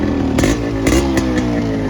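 A Yamaha RX100 two-stroke motorcycle idles close and loud, with a raspy buzzing exhaust and several quick throttle blips that rise and fall.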